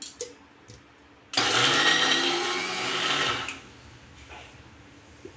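A mixer grinder grinds dry red chutney in one loud, steady whirring burst of about two seconds, then cuts off, with quiet kitchen background before and after.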